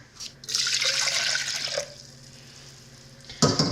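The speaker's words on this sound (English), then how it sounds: "in this weird looking food processor, I'm gonna add a cup of water" A cup of water pours into a food processor with a splashing, trickling rush for over a second, then a short quiet gap and a brief second splash at the end.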